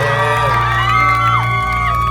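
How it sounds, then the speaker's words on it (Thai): A crowd screams and cheers loudly with high whoops over a steady musical backdrop, continuous throughout, at a live concert. "ส่งเสียงกรี๊ดดังๆให้ตัวเองด้วยครับ"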